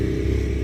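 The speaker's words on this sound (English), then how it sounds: "some loud motorbikes going past" Loud motorbikes passing on a road outside, a brief burst of heavy, low engine rumble and drone, close and dominant, with no talking.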